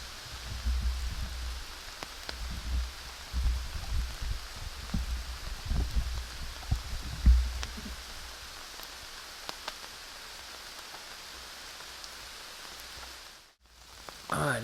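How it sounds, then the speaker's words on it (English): Rain falls steadily on public land in the woods along a river, making a continuous hiss of patter. Some heavier low rumbling drops come through in the first half, and the sound cuts out briefly near the end. "Going to wait out this rain a little bit"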